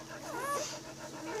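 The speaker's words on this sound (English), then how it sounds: "But panting like this while you're laying down and you're letting your babies nurse, that's okay." An Anatolian Shepherd dog pants softly while lying down nursing her puppies, with faint high whimpering whines from the litter over a quiet steady background.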